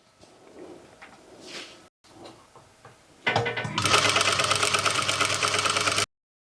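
A sewing machine stitches across a skirt waistband with binding, running in a steady, loud, fast whir close by after a few seconds of quiet handling noises.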